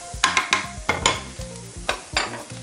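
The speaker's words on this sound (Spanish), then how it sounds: "Removemos bien." A spoon stirs bolognese sauce sizzling in a pan, making a quick series of scraping, clattering strokes about every quarter to half second over a soft continuous fry, with no voices.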